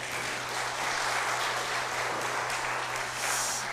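An audience at a county government performance report in Hwasun applauds the county governor, a dense, sustained wash of clapping across the hall over a low electrical hum.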